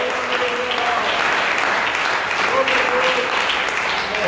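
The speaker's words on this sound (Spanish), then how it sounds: "Demos un aplauso al Señor." A church congregation breaks into loud, sustained applause during a sermon, a thick continuous wash of many hands clapping close by, with voices faintly audible underneath.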